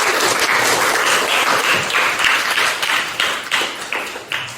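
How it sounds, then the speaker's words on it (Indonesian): Classroom applause for a student group after their presentation, a burst of many hands clapping quickly and unevenly, close and loud, thinning slightly toward the end. "Silakan tepuk tangan untuk kelompok."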